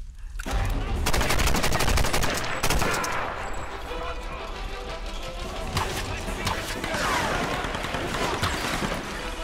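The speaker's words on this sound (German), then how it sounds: "Jetzt keine Gnade, jetzt wird er drauf geschossen." Dense, sustained automatic gunfire from a Tomb Raider video game battle, rapid bursts and single shots overlapping loudly for the whole stretch, with someone talking over it.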